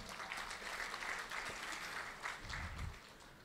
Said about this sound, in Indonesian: Ya, kita beri tepuk tangan untuk The Fame.